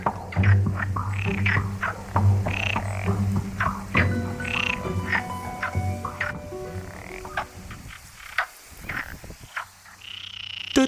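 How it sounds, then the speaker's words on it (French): Perez's frogs in a pond on Faial in the Azores croak in a dense, continuous chorus of repeated rhythmic calls, some close and loud, others overlapping farther back, with no talking. "La grenouille de Pérez abonde dans les différents plans d'eau de tout l'archipel."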